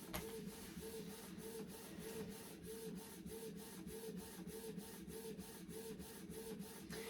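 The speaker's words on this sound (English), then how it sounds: "it has printed out diagonally" Inkjet-style printer running steadily as it prints a page for a vision board, a continuous mechanical whir with a regular pulsing shuttle rhythm, quiet and close with no voices.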